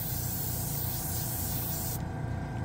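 Trigger-style dual action airbrush blowing air, a steady close hiss of rushing air that holds continuously, then the upper hiss cuts off sharply near the end while a lower rush carries on.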